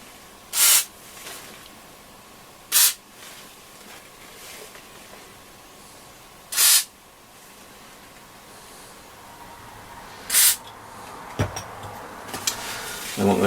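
Short squirts from a spray can hit the joints of a Hacker Super Sovereign RP75 transistor radio case, five brief, crisp hisses spaced a few seconds apart, close by with light handling sounds between them.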